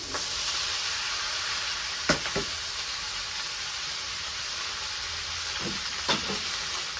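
Taro sizzles and fries in a pan, a steady dense hiss at moderate volume with a few brief scraping clicks of stirring.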